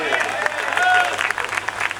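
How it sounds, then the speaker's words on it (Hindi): Audience applause at a Hindi comic poetry gathering (hasya kavi sammelan), a steady wash of clapping from a crowd for about two seconds, with a voice speaking over it. "मेरा छोटा भाई धीरज, एक बार जोरदार इसके लिए तालियां बजा दो।"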